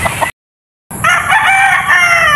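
A white Kelso rooster crows loud and close, one long drawn-out call that starts after a brief silence, with faint farmyard noise around it.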